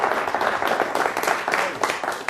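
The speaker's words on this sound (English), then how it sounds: "Let's give Carrie a big round of applause." Audience at a coin-trick magic show breaks into applause, a dense wash of clapping filling the room for a couple of seconds, fairly loud and steady with no talking over it.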